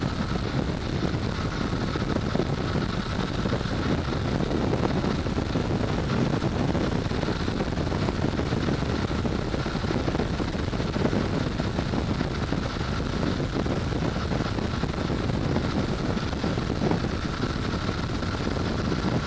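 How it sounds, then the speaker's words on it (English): Constant wind buffeting and roaring outdoors on a chilly day, a steady broadband rush with no breaks, heard while riding a motorcycle. "It's actually very windy too."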